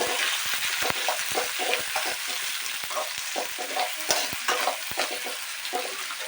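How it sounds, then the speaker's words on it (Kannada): Tomato sautéing in a hot oiled pan for vegetable saagu, a steady bright sizzle broken by frequent sharp scrapes and taps of a spatula stirring, close and continuous with no talk. "ನಾನು ಟೊಮೆಟೊ ಸ್ವಲ್ಪ ಹಾಕ್ಕೊಳ್ತಾ ಇದ್ದೀನಿ. ಒಂದೇ ಟೊಮೆಟೊ. ಇದನ್ನು ಹಾಕ್ಕೊಂಡು ಸ್ವಲ್ಪ ಬಾಡಿಸ್ಕೊಳ್ಳೋಣ"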